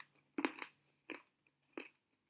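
Close, crisp crunching bites of peanut butter bacon brittle, three distinct chews spaced about a second apart in an otherwise quiet room.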